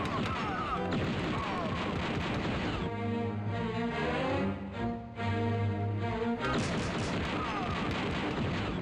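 A gun turret fires on the player in Star Wars: Shadows of the Empire, with loud, dense bursts of booming blasts at the start and end and a tonal passage in between.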